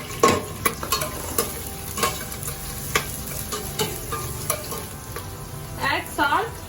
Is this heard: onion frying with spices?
yes